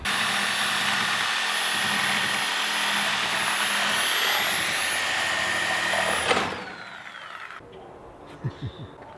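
A battery-powered reciprocating saw cutting a wooden chicken coop whines loudly and steadily for several seconds, then winds down and stops, followed by a few faint knocks.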